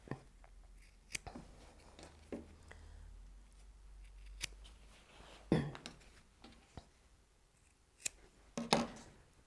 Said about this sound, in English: I'm just going to snip off the corners